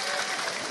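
A short, dense burst of audience applause at an evening religious gathering, with continuous clapping from a crowd.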